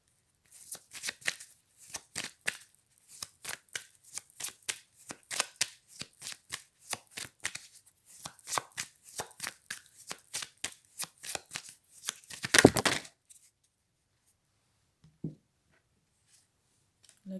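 A deck of oracle cards is shuffled by hand in quick, crisp riffles and flicks, close and alone, with a denser flurry near the end before falling quiet.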